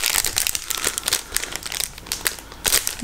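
Paper crinkling and crumpling as a mailed envelope is opened, a close, busy series of crisp rustles and crackles running throughout with a few sharper bursts.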